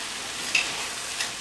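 Potatoes and fenugreek leaves are stirred in a hot pan, with a soft sizzle and a couple of quick scraping knocks from the utensil.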